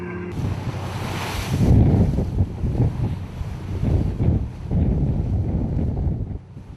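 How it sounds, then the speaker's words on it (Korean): Rough waves and strong wind batter a fishing boat at sea in the East China Sea, a loud continuous roar of surf and gusting wind buffeting the microphone, with surges of crashing water throughout. "그러나 바다는 거친 파도와 강한 바람으로 대양호를 맞이했다."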